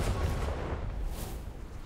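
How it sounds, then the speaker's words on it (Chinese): Gunfire in the pixel steampunk mobile launcher RPG Wandering Ark, a dense, rumbling burst of shots and booms running continuously for about two seconds, moderately loud, no voices. "他开枪了，他开枪了，"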